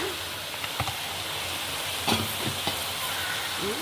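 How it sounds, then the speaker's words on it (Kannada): Masala frying with white pumpkin pieces in a pan for koorma, a steady close sizzle and hiss with a few scraping stirs and clinks breaking through. "ಮಸಾಲೆ ಪರಿಮಳ ಬರುವಷ್ಟು ಹುರಿಬೇಕು"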